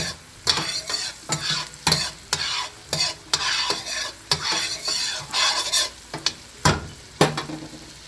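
Onions softening in a hot pan for chicken pot pie, a steady sizzle broken by repeated rhythmic scrapes and clatters as a utensil stirs them, close and loud with no voices.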